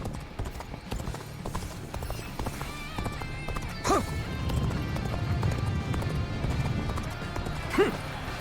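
Horse hooves clip-clop at a running pace in Dynasty Warriors Origins beneath a busy game soundtrack, with a couple of short whinnies rising above the mix.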